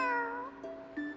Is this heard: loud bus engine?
no